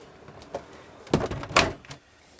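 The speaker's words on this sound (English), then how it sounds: "let me shut the door up, there's a bit less noise." A caravan door, on a 2013 Lunar Quasar 554, is pulled shut from inside, giving a couple of close, solid thuds and a latch clatter after some quieter handling noise.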